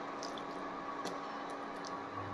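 Water poured into a pan of simmering chicken curry gravy, a steady close wash of liquid sound with soft drips and splashes, no voices.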